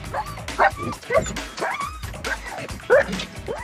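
A police tracker dog on a live pursuit gives several sharp yips and barks in quick succession, loud and close, against background commotion with faint voices.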